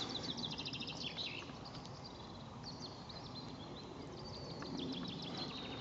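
A garden warbler sings far up a river near a lake, its quick, chattering phrases faint and distant, repeating through soft outdoor background noise.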